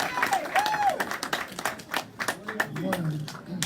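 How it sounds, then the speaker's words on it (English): A crowd at a Bronzeville office opening applauds Congressman Rush, a burst of clapping from many hands that rises and thins in waves while a voice speaks over it. "Let's give him a round of applause."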